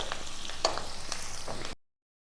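Onions fry in oil over a medium flame for a ripe mango curry, a soft continuous sizzle broken by regular stirring scrapes, close and moderate in level before cutting to silence.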